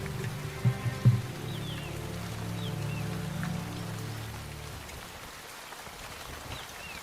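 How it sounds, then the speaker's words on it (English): Heavy monsoon rain pours down steadily over an Indian jungle, a dense continuous hiss of drops on foliage with a few louder splashes early on, fading slightly toward the end, no voices. "The downpours get heavier and more frequent."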